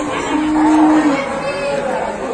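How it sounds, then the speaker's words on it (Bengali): Large cattle moo at a busy outdoor cattle market, long drawn-out calls rising over a steady crowd murmur, close and loud. "এখানে দেখতে পাচ্ছেন 3-4টি খুবই বড় গরু।"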